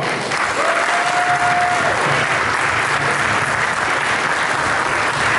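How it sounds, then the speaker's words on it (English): Steady, dense clapping from a conference audience fills the whole stretch at an even, loud level, with no voices standing out. "let's give her the over panel a round of applause."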